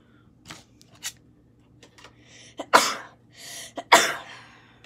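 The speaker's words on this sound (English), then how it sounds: "Sneezes." A person sneezes twice in a quiet room while opening Pokémon card packs, two sharp bursts close to the microphone, with a few softer breaths and small handling noises between them.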